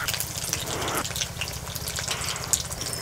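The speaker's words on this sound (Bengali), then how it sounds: "পটল আলু ভাজবো, লবণ হলুদ দেবো না, এমনি ভাজবো" Pointed gourd and potato pieces sizzle in hot oil in a pan without salt or turmeric, a steady close crackling hiss with bursts of sputtering throughout.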